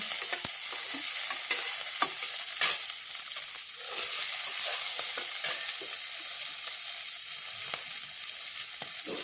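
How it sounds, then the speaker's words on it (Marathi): Fresh green peas dry-roast in a hot kadhai as they are stirred and begin to crackle, giving a soft continuous sizzle dotted with faint scraping clicks and small pops throughout, with no voices. "थोडेसे तडतड वाजायला लागले फुटायला लागले"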